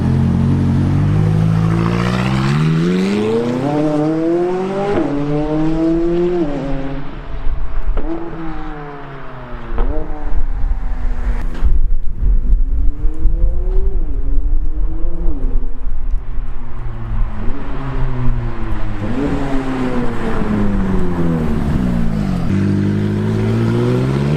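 A McLaren 570S sports car engine revs hard through repeated gear changes, the pitch climbing then dropping with each shift, loud and close, with no talking.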